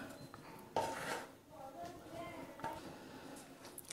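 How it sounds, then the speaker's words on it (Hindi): Cashew katli mixture is stirred on a ghee-greased plate to cool it: a few close metallic scrapes and clinks of a spoon against the plate, soft and intermittent, while someone speaks quietly over them. "इसको चलाते हुए ठंडा करेंगे।"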